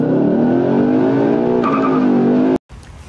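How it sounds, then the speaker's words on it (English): A car engine roars loudly and steadily in drag strip mode, its pitch climbing as it accelerates hard, then cuts off abruptly. "Do you want to hear drag strip mode? I'm gonna race my car."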